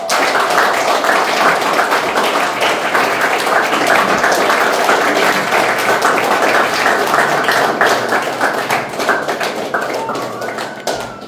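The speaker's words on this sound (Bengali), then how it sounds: "পরবর্তী অংশগ্রহণকারীকে আমি করতালির মাধ্যমে সেজে আহ্বান করছি" An audience at a recitation event applauds with dense, loud, close clapping that keeps up steadily before it thins and fades toward the end.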